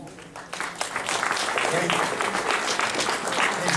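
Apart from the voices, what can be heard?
audience applause for people who had in-person interviews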